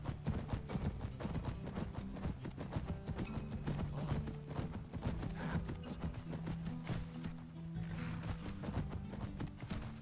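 Rapid clip-clop of a horse's galloping hooves in the video game Skyrim, loud and continuous, with a steady low rumble beneath.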